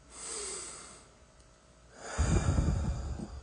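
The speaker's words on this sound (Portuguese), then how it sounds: "vai tomando uma respiração profunda e vai respirando aí profundamente" Slow, deep breathing during a guided prayer: a soft, long inhale through the nose followed later by a louder, rushing exhale, close to the microphone with no talk.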